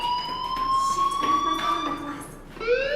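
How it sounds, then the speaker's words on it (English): A fire alarm sounds in the video game Life Is Strange, a steady electronic tone with rising pitch held for about three seconds, loud and continuous, briefly dipping before returning near the end. "Hey, do you hear that fire alarm?"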